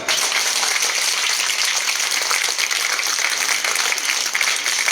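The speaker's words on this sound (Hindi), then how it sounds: "उनके लिए मैडम के लिए जोरदार तालियां" A crowd applauding Dr Beena Singh at a Holi gathering with children, with dense, steady clapping that stays loud and even throughout, without talk.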